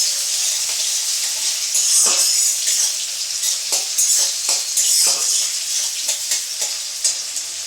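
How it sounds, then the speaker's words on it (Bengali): Chopped onions and green chillies fry in a pan with a steady sizzling hiss, punctuated by repeated scraping stirs of a utensil, close and loud throughout with no talking. "কেটে রাখা পেঁয়াজ আর কাঁচা লঙ্কা। একটু ভেজে নেব।"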